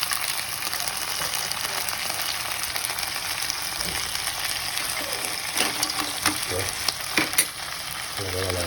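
Mussels sizzling steadily in a hot frying pan, a continuous broadband crackle with a few louder pops and stirring scrapes toward the end, close and alone without talk.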